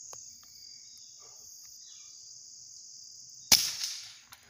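A single sharp gunshot from a Ruger .22lr pistol fired outdoors at a fly on a target, a loud crack with a short ringing tail breaking a steady high insect drone.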